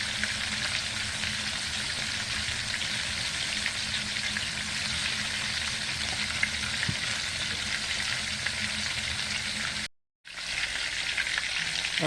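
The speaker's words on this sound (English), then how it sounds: "Be careful when you're frying so you won't burn yourself." Chicken pieces fry in hot oil in an uncovered pan, giving a constant close sizzle and crackle with small pops and no voices.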